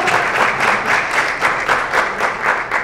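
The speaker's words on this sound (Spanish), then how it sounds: "Un aplauso también para ella que viene llegando." An audience applauds a guest arriving at a Premios Heat press conference, with dense, loud clapping that swells in rhythmic waves for the whole stretch.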